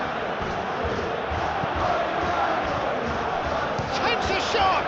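Stadium crowd in a football video game, a steady loud roar of massed voices with cheering swells throughout, while a commentator talks over it.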